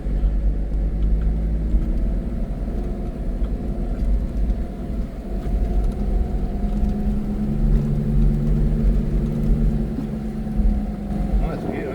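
A 4WD vehicle engine labours steadily in low gear up a steep track near Elim Beach on Cape York, a loud continuous rumble with shifting engine tones and occasional voices from inside the cab.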